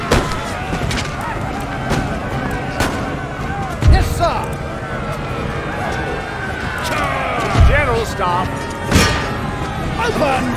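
Volleys of musket fire from troops in the Total War: Empire strategy game crack out repeatedly, with several heavy booming thuds standing out, over a busy battle din.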